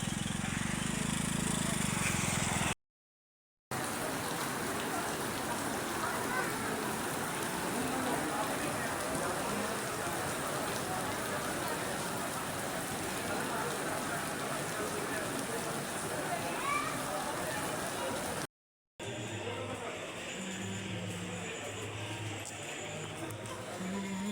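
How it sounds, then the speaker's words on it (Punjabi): Steady, dense hiss of heavy rain pouring down at Fatehgarh Sahib, continuous and close, with two brief gaps of silence. "ਪੂਰਾ ਰੱਜ ਕੇ ਮੀਂਹ ਪਿਆ ਰੱਜ ਕੇ"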